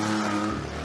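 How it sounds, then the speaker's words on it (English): A race car rumbles loudly through the pit lane at Brands Hatch in a brief, close pass, its engine note holding steady and then dropping away slightly. "What a wonderful sound. That was the lead car here."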